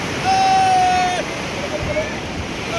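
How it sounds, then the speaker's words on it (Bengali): Sea waves at the beach in Puri make a broad, loud, steady wash of surf, with a faint voice briefly heard beneath it. "একবার সমুদ্রের আওয়াজটা দেখাই।"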